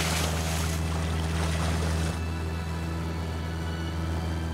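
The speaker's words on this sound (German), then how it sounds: "Der Motor der Piper PA-18 hat zu kämpfen." Engine of a Piper PA-18 light airplane straining under extra weight and a tailwind on takeoff: a loud, steady droning hum with strong low tones, its higher roar easing slightly partway through, no voices.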